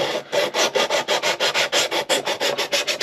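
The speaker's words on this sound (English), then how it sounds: "you can just take your sanding, whatever sanding stick you're using, and just grind them down so they're flush" A sanding stick grinds small wooden pieces of an 1848 stage coach model flush in fast, even back-and-forth strokes. About fifteen close, raspy rubs repeat in steady rhythm with no talking.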